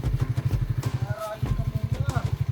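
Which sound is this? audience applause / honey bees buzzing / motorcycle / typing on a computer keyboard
motorcycle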